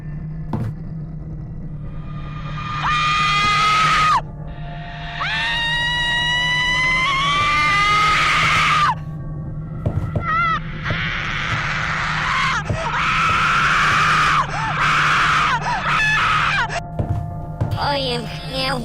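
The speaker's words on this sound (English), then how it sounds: "The game also has children in it, and they'll scream when you get near them." Children in a creepy video game screaming in repeated shrill, wavering bursts, several overlapping cries punctuated by thuds, over a steady low game hum.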